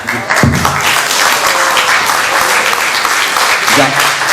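An audience claps in continuous, dense applause at a community solidarity closing event, loud and close, with voices speaking over it.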